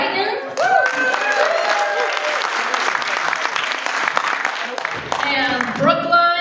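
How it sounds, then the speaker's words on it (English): An audience at a progressive political group's annual meeting breaks into sustained applause, a dense steady clapping that carries on for several seconds, with voices briefly rising over it near the end. "if we can give them a round of applause"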